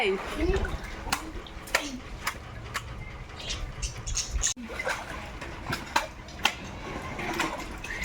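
Children washing clothes in water, with splashing and dripping sounds under an adult's nearby talk throughout.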